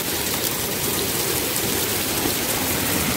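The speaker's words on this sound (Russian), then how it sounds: "Град идет, это нехорошо." Hail with heavy rain pelting surfaces during a thunderstorm in Germany, a dense, steady drumming roar of many impacts that holds loud and continuous throughout, with no voices over it.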